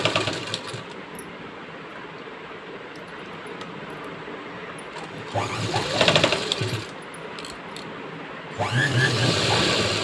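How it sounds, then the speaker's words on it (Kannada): Sewing machine stitching along marked lines on a blouse, a steady close mechanical whir running throughout with a couple of louder bursts as the speed picks up, no voices. "ಮಾರ್ಕ್ ಮಾಡ್ಕೊಂಡಿದ್ದ ಪ್ಲೇಸಿಗೆ ನಾವೀಗ ಸ್ಟಿಚಸ್ನ ಹಾಕೋಬೇಕು"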